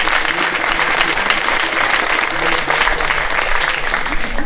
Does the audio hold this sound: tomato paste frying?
no